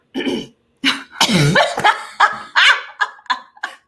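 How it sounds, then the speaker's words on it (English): A person coughs in a string of harsh, throaty bursts, about eight or nine close hacks with short gaps between them, loud and near, with no talking. "I'm just started coughing as I talk about coughing."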